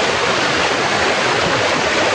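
A river flows over slippery rocks in a steady, loud, hissing rush of water that fills the whole moment without pause and with no voices.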